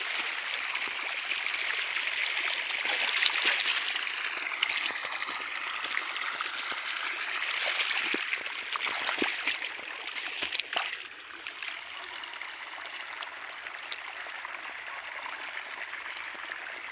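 Irrigation water trickles and gurgles softly through a cumin field at night, a faint, steady flow with occasional small splashes.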